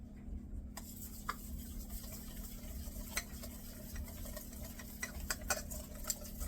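Breadcrumbs, salt and black pepper are stirred together in a bowl for Salisbury steak, producing soft, faint scraping and light taps at an irregular pace, with no talking.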